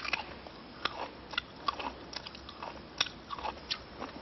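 Fresh ginseng root being chewed, a series of crisp, irregular crunchy bites and chewing sounds, close and fairly quiet, with no talk over it.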